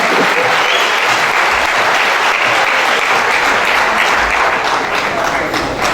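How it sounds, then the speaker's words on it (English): Standing ovation at a Fulbright regional workshop's main event: loud, dense applause from a large audience fills the whole stretch without a break. "I think that round of applause, a standing ovation"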